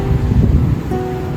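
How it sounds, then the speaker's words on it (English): Strong wind gusts around a Mini 4 Pro drone flying over the rapids and locks of Chambly, a loud continuous rumbling buffet with low turbulent roar and no voices. "There's quite a bit of wind"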